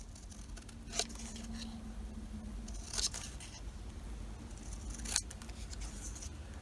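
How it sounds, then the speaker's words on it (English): Scissors snip around a paper tag on a craft card in three brief, crisp cuts about two seconds apart. The cuts sound close over a low steady room hum. "I'm going to cut around this tag"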